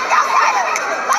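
A mother cheers from the crowd at a high school relay race as sprinters round the bend, with steady loud shouting and crowd noise throughout.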